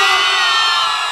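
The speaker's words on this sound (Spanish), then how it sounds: "Aquí está toda la gente más gritona." A dense crowd at a live concert roars with sustained shouting and cheering, loud and continuous throughout with no break.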